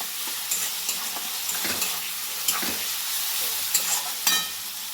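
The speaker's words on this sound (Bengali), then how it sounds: "টমেটো ঘষাটা দিয়ে দিলাম, দিয়ে এবার আমরা একটু নাড়া দিয়ে দিচ্ছি" Grated tomato stirred into a spice masala frying in a pan, a steady oily sizzle broken by repeated scraping strokes of the spoon, close and moderately loud, with no voices.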